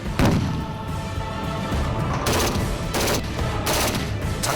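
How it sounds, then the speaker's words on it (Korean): Explosive charges go off during special forces infiltration training at a tactical training ground, loud booming blasts in repeated bursts that fill the space with no talk. "폭파!"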